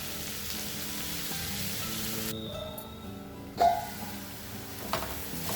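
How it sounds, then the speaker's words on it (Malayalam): Sliced onions and green chillies sautéing in a pan of oil for a dry anchovy and egg curry, a soft continuous sizzle with occasional scraping stirs and clinks, fairly quiet and without talk. "ഉള്ളി വാട്ടാനായിട്ട് ഉള്ളി ചേർക്കാണ്. അതിൻ്റെ ഒപ്പം തന്നെ പച്ചമുളക് ഇടാം."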